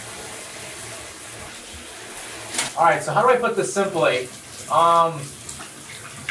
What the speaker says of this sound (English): we're in a very loud shower